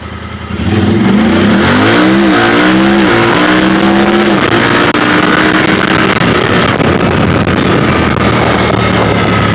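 A 2019 Honda Talon side-by-side pulls away hard, its engine revving up through rising gear sweeps to around 45 mph, loud and close with heavy wind rush once at speed.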